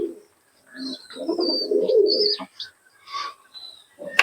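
Pigeon cooing, male and female Giribaz and Teddy pigeons kept for sale in Murshidabad: soft throaty coos in repeated bursts close by, with a few brief chirps and a sharp click near the end.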